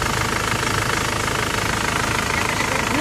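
An overheating Isuzu Crosswind engine with a burst hose runs steadily at close range, a loud continuous rumble with a rough knocking texture and no pauses.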